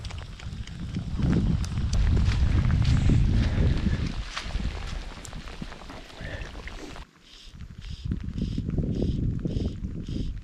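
Gusty wind blows across open water during a fishing trip, buffeting the microphone in uneven, rumbling surges. The sound dips briefly and then rises again.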